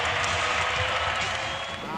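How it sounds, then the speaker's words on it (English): A basketball arena crowd roars for the Houston Rockets, a broad, loud, sustained wall of cheering and clapping that stays steady throughout. "And hear it from this crowd."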